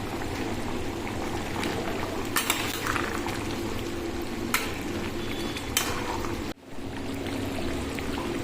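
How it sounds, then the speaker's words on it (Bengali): Desi chicken curry simmering in a pot, with a steady close bubbling and gurgling that runs throughout, broken by a few brief clicks and one short dip near the end. "টকবক টকবক করে ফুটছে দেখো"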